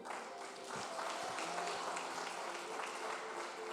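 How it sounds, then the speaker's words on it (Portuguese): A church congregation claps during a Portuguese-language sermon on fasting, a soft, steady patter of many hands heard from some distance for a few seconds, with faint voices mixed in. "As palmas para ele."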